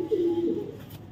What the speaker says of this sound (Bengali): কবুতরটা ধরে দেখেন